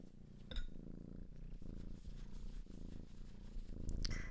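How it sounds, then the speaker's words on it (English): A young female cat purrs steadily at close range, with a soft rhythmic rise and fall from her breathing. No talking is heard. "She's full of purring."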